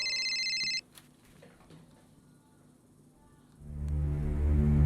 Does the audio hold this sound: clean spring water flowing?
no